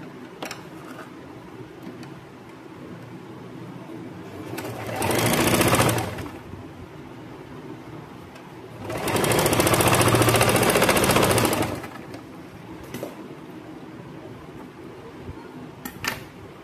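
Sewing machine stitching the left shoulder seam of an A-line kurti, running in two loud sustained bursts of stitching separated by quieter pauses with faint handling noises.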